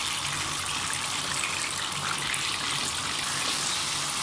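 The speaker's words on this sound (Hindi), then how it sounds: "ये देखें फिश फ्राई होना स्टार्ट हो गई है" Masala fish fries over a high flame in hot oil, giving a loud, unbroken sizzling hiss that holds steady throughout.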